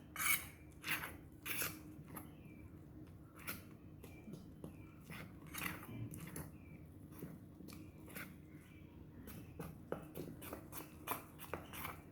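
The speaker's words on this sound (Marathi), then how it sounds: "थोडं थोडं पाणी घालून मी हे मिक्स करून घेते पीठ" Gram flour batter with ajwain is stirred in a bowl as water is added little by little, producing a series of irregular clinks and scrapes of a spoon against the bowl, close and fairly quiet.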